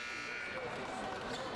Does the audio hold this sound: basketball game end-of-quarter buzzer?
yes